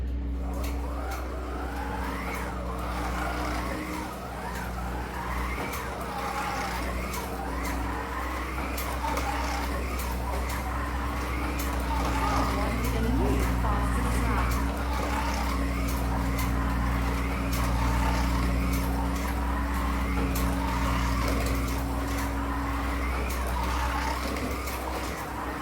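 A 2-litre slot car runs a time trial lap after lap, its motor whining in a continuous, fairly steady drone with a constant low hum beneath, no talking over it.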